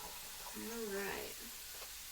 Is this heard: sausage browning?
yes